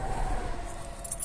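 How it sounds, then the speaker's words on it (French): A car key being pulled from the ignition of an Audi, a short metallic jingle of keys that sounds close and fairly quiet against a low steady hum, with no talking. "On coupe, on retire donc la clé."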